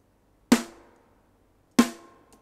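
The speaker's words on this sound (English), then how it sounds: "single drums, snares, acoustic snare," Acoustic snare drum sample D32 from Logic Pro, hit twice about a second apart, each a sharp, loud crack that rings out with a longer body and decaying tail, played alone with nothing else around it.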